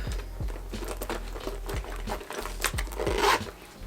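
A zipper closing on the front pocket of a Louis Vuitton Loop bag, drawn along in short repeated strokes, close up, with crinkling fabric and rustling around it.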